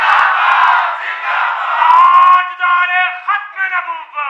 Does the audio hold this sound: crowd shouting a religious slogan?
yes